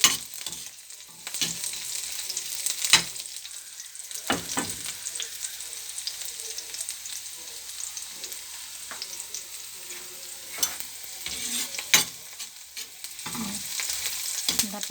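Meat for adobo fries in a pan with a soft continuous sizzle, broken by sharp scrapes and knocks of a utensil as it is stirred, close up.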